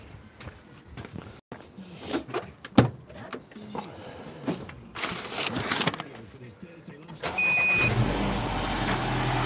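A Mini with its MAF sensor disconnected cranks and starts, then settles into a loud, rough-running idle that continues to the end, with a voice talking earlier over quieter mechanical clicks and rustling.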